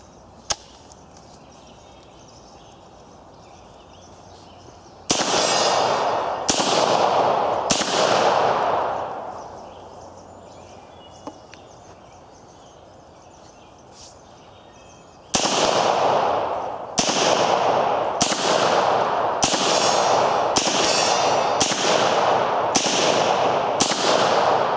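A C-96 style pistol fires a string of sharp, loud cracks: three quick shots, a pause, then a rapid run of about seven more, each with a brief ringing decay, followed by quiet outdoor background.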